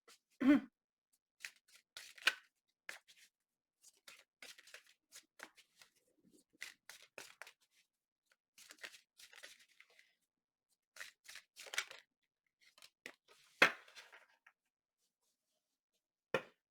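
Tarot cards being shuffled by hand in a quiet room, soft riffling and sliding bursts repeating irregularly with short pauses, close and faint, no talk.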